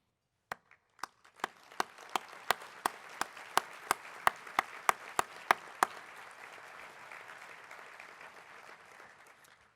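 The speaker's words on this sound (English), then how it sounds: "would you please stand and allow us to applaud you for your work?" Applause from an awards ceremony audience, opening with a few isolated loud claps that quickly swell into steady, dense clapping before gradually thinning out toward the end, with no talk over it.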